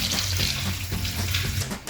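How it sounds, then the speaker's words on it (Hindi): Water pours steadily into a pressure cooker holding chicken and peeled, cut potatoes, a continuous close splashing stream with no talk. "पानी डालेंगे इसमें।"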